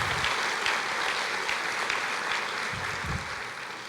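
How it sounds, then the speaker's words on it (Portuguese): Congregation at a church service applauding, a steady broad wash of clapping that fills the whole stretch at moderate level without talk over it. "Você pode aplaudir o Senhor?"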